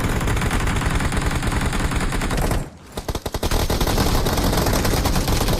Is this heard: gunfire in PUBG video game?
yes